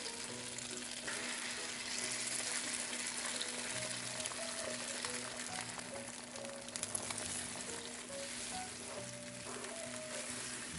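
Beaten eggs fry in a hot wok next to tofu, a steady close sizzle and crackle with faint stirring and occasional scraping throughout, no voices.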